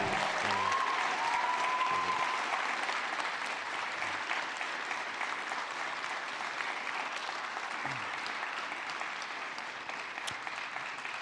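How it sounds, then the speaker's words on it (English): Sustained audience applause fills a school hall after a senior project presentation, a dense steady clatter of many hands that carries on throughout and fades slightly toward the end. "One more round of applause."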